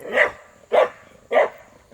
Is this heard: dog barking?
yes